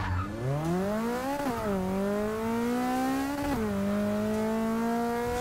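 Engine note from a Lotus Elise and a Nissan GT-R racing in the Forza 6 video game: a loud, steady, high-pitched engine whine rising through the gears, with two quick shift dips, heard alone.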